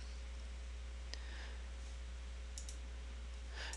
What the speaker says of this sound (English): And click OK.